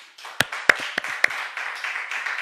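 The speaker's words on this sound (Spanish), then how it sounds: "Le puede dar un aplauso, como dijo Byron." Applause from a church congregation: a few sharp, separate claps in the first second, then softer, scattered clapping that continues to the end.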